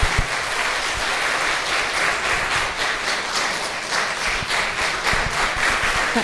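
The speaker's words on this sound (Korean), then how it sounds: "큰 박수, 축하의 박수 부탁드립니다." A church congregation applauds an award presentation at a children's department competition. Many hands clap loudly and steadily for several seconds in a dense, sustained round.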